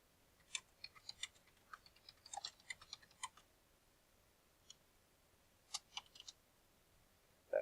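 Sparse, quiet keystrokes on a keyboard at a ham radio station, irregular clicks in short bursts with pauses between them, close and faint in a quiet room.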